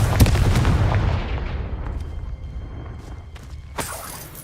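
A Confringo blasting spell explodes in the Hogwarts Legacy video game, a loud booming burst with crackling debris that decays over a few seconds, followed by a sharp later impact.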